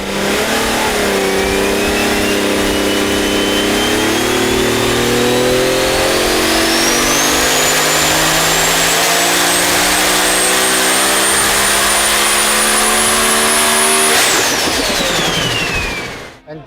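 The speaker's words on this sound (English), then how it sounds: "actually getting it on the engine dyno and hearing it myself" An engine with a cast cylinder head revs on an engine dyno, its loud, close roar climbing steadily in pitch for about fourteen seconds before abruptly dropping away; no voices.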